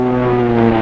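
An OV-10A Bronco twin-turboprop aircraft droning steadily with strong tonal engine and propeller hum, loud and continuous through the short stretch, with no voices.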